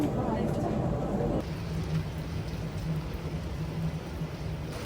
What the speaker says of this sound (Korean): 와, 비 진짜 많이 온다.